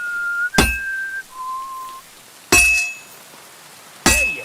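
A person whistles a tune while forging a sword in the video game Kingdom Come: Deliverance II, the steady whistled notes punctuated by three loud, ringing hammer strikes on metal.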